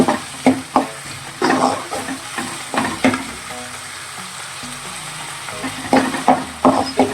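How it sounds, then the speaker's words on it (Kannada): Onions fry in a pan for a spicy spinach (palak) gravy, a steady loud sizzle with intermittent stirring clatters and scrapes against the pan, no voices over it. "ಇದು ಚೆನ್ನಾಗಿ ಫ್ರೈ ಆಗ್ತಾ ಇದೆ. ಹಸಿ ಸ್ಮೆಲ್ ಹೋಗ್ತಾ ಇದೆ ಈರುಳ್ಳಿಗೆ"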